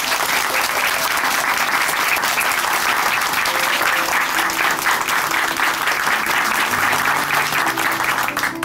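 A church congregation gives a dense, sustained round of clapping for a testimony speaker, loud and steady throughout, with a faint voice underneath.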